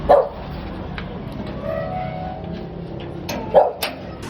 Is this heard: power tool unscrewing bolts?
no